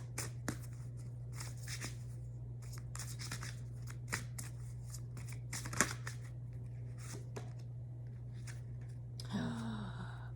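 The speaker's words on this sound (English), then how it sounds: "We're going to pull one of the chakra cards" Chakra cards being shuffled and pulled, heard as soft repeated riffling and flicking of card stock over a steady low electrical hum, faint and close, with a brief voice near the end.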